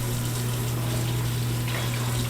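Tap water runs steadily and fills a bowl, a constant rushing hiss with a low hum underneath.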